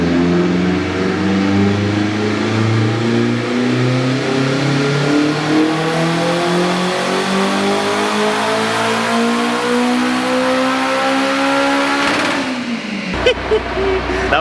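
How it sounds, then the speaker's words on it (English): A turbocharged K20-powered Honda Civic on a dyno pull, engine revving steadily higher with rising pitch for about twelve seconds to redline, then cutting off abruptly into a crackling, sputtering lift-off; loud and close throughout. "the first time it's actually like smacked redline with this new turbo setup."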